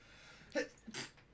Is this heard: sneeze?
yes